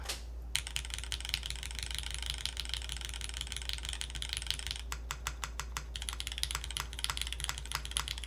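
Fast, steady typing on a mechanical keyboard with a stainless steel plate, dense crisp key clacks close to the microphone with a few brief pauses and no talking.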